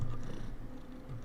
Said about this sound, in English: She's literally rubbing her head on the mic and purring.